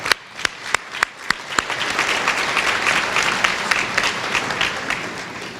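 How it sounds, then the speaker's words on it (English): An audience at a community college Martin Luther King breakfast event applauds an American Sign Language interpreter. A few sharp individual claps start it, then it swells into steady, fairly loud applause from a large room that holds to the end. "Nice round of applause for her."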